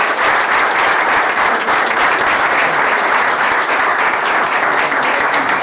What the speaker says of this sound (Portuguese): Gonçalinho merece aqui uma salva de palmas do pessoal